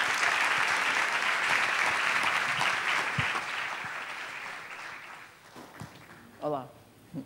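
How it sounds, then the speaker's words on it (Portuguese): Audience applause welcoming the illustrator André da Loba, a steady burst of many hands clapping that gradually thins and fades, with a few scattered claps and a brief voice near the end. "Uma salva de palmas, André da Loba."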